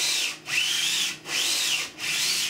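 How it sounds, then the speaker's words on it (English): A 3D printed ABS part is rubbed flat against a sanding board in three long, even strokes, each a close raspy scrape separated by brief pauses. "So when I'm sanding, I'm very conscious to keep it very flat onto the board."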